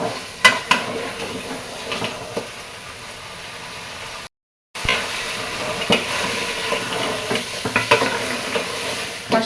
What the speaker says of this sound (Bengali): খাসি মাথা খাসি মাংসের মাথা রান্না করছি